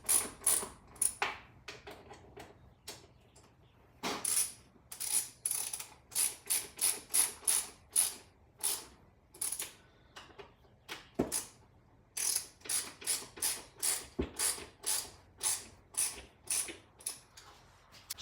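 Clicking ratchet strokes tightening a power sweep attachment on a Stihl FS91R trimmer, close and crisp in quick irregular bursts with short pauses between runs of clicks.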